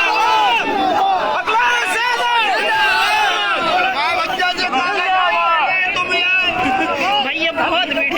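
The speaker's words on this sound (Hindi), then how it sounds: "भैया बहुत भीड़" A dense, noisy crowd packs a campaign rally for Akhilesh Yadav, the Samajwadi Party leader, with loud continuous hubbub of many overlapping voices and shouts close around throughout.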